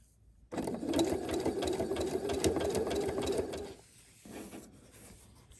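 A sewing machine runs a zigzag stitch along a fabric edge, a steady close mechanical whir with rapid needle ticking for several seconds before stopping, then a brief softer restart.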